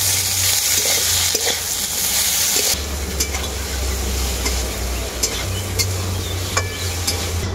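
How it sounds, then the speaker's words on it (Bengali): A ground mustard, cumin and dried chilli spice paste with turmeric fries hard with potato and eggplant in a pan, with loud continuous sizzling, stirring scrapes and occasional utensil clicks close by. "ভালো করে মশলাটাকে কষিয়ে নেব।"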